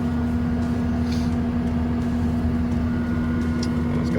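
A Takeuchi TL12V2 high-flow skid steer idles steadily in economy mode, a constant low engine drone with a strong hum and no talk over it.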